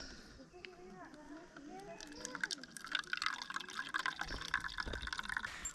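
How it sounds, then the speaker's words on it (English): Water poured into a homemade insect trap set up outdoors among trees in Guatemala, a steady trickling and splashing that builds and grows louder over several seconds, with voices talking nearby. "There goes the water."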